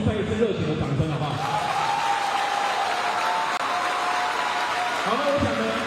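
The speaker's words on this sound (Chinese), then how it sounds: "是不是给这群选手再一次热情的掌声" Applause in a high school gymnasium at a national elementary school volleyball tournament final in Taiwan, steady clapping from the crowd with a voice talking over it at the start and end.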